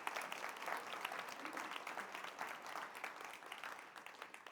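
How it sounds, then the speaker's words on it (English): A lecture audience applauds Katie and her team, a steady dense patter of many hands clapping, fairly quiet and distant in the room, with no talk over it. "So if you want to give Katie and her team here a round of applause for a job well done,"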